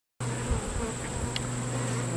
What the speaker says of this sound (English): we have bees up here drawing out comb